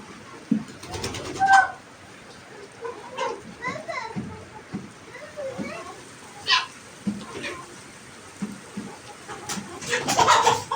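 Chickens coo and cluck in a yard, with a voice and an adult speaking in Turkish nearby and occasional scuffling movement.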